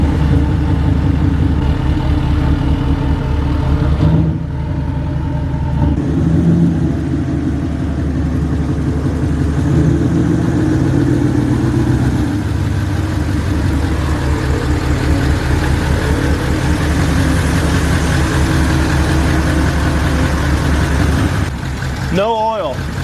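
A Nissan Titan XD truck engine runs steadily at idle with a failing turbo that won't spool, a loud continuous low rumble throughout, with voices talking over it and a brief rise near the end.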